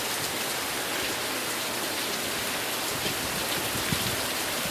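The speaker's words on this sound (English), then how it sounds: "Oh, here comes the hail." A rain and hail storm on an old homestead, a steady dense hiss of heavy precipitation striking surfaces, continuous and even throughout, with faint scattered impacts and no voices.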